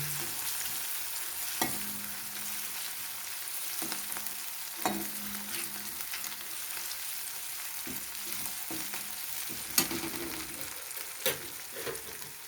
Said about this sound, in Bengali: একটু ভেজে নেব যাতে কাঁচা গন্ধটা না ওঠে